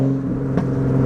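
A modified Nissan car engine holds a steady, fairly loud idle-to-rev drone with strong low harmonics, a brief burst of throttle near the middle swelling then settling back into the even hum.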